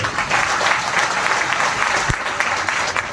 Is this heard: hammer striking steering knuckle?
no